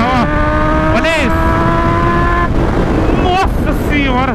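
A Kawasaki Z1000 motorcycle engine revs hard while accelerating, with rising and falling whines through several gear changes, close and loud, and people talking over it.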